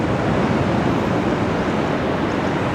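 Ocean waves wash over the rocks at Dalugan Beach by a tidal pool, a close, loud, continuous surf roar with no voices.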